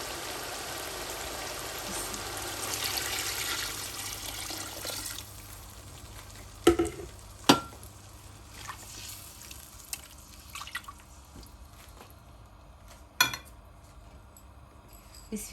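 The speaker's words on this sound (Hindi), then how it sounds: "अब इसमें हम पानी डालेंगे।" Water is poured into a pan of fried chicken and spices while making chicken pulao, a steady rushing pour for the first few seconds, then a quieter simmer with a few sharp clinks.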